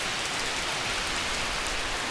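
Heavy rain pours down in torrents on Mont Ventoux, a dense, loud, steady hiss of drops striking surfaces close by, with no voices.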